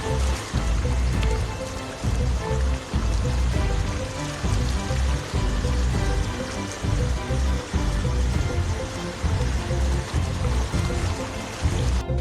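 Rushing tidal floodwater from a breached embankment pours steadily through a flooded Jakarta neighbourhood, a constant loud roar of flowing water with no clear voices.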